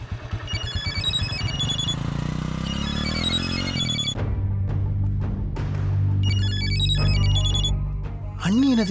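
A phone rings in a Tamil TV serial, repeating its electronic melody in bursts over an engine-like rumble and other background sound.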